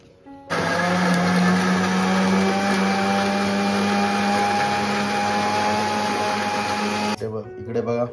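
A mixer grinder blending mint and half a lemon into a summer sherbet runs loud and steady with a high whirring motor drone for about seven seconds, starting and stopping abruptly.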